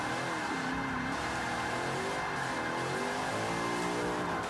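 A Shelby Cobra 427 in Forza 5 accelerates with a loud, steady engine roar, its pitch rising and wavering as the revs climb, continuous and close throughout.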